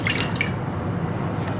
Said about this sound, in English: add half a cup of warm water to a bowl